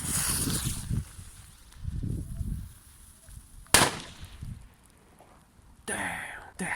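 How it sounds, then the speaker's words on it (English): A firecracker set off outdoors in the rain, with a single sharp bang partway through amid steady rain hiss and a person talking quietly before and after. "Now let's see those firecrackers."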